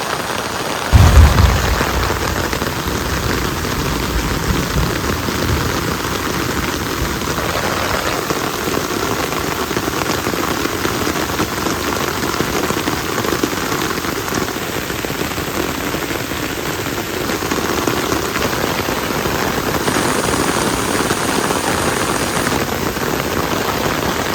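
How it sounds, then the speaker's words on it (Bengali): Heavy rain falls steadily outdoors among trees, a dense continuous wash of sound with a brief low rumble near the start, alone without voices. "এত সুন্দর বৃষ্টি হইতেছে বাবা"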